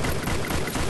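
Dense, continuous MP40 submachine gun fire from the mobile shooter Free Fire, a loud rapid stream of shots packed tightly together over a single second.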